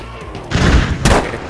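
Gunfire in Battlefield V on the Arras map: two loud, close bursts of shots about half a second apart, booming over faint background ambience.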